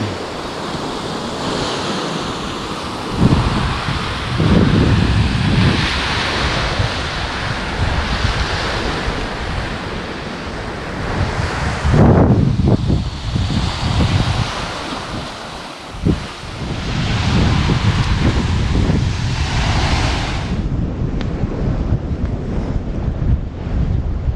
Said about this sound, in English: Just walking along the beach here.